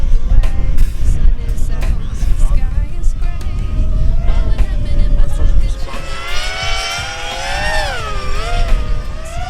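A DJI FPV drone fitted with oversized heavy propellers buzzes loudly and close, its deep droning pitch swelling and wavering as the throttle rises toward the end, with someone talking over it.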